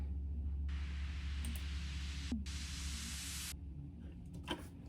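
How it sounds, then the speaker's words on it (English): A broadband white noise riser in a hard hip-hop beat made in Logic Pro X hisses in over a low rumbling bed, breaking off briefly midway before resuming and cutting out. "And then I just brought in like a little white noise riser right here."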